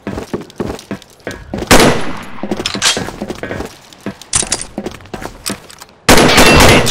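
Gunfire in a shooter video game, landing a headshot: several loud, sharp bursts of shots crack out in quick clusters, with the final burst sustained and harsh.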